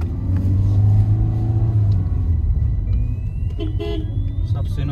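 Traffic jam on the road near Manali, with idling and revving car engines rumbling close by and short horn toots breaking through, while people talk over the congestion.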